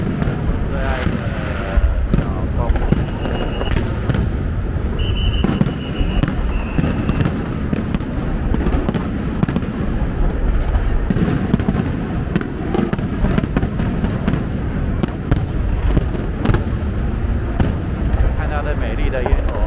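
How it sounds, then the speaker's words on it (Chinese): A dense barrage of fireworks bursts at E-Da in Taiwan, loud rapid cracks and booms overlapping continuously, with crackling sparkle between the blasts. "我要把这个烟火送给你"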